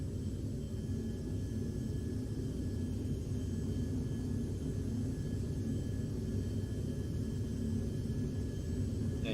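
Steady jet engine roar of a Hawker Beechcraft Premier business jet in flight in a simulator, a constant broadband rumble and hiss with no pauses and no voices.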